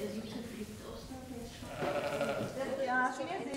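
Sheep bleat in a large barn on a farm in Mecklenburg-Vorpommern, with a clear wavering bleat rising near the end over steady background murmur and people talking.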